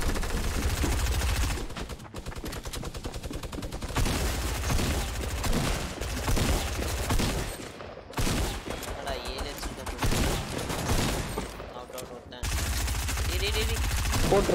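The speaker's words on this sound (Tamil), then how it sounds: "என்னடா மினி கன் தான் அடிக்கிறேன்" Sustained rapid automatic gunfire from a minigun in a Tamil-played multiplayer video game, a dense continuous roar with short breaks, loud throughout while players talk over it.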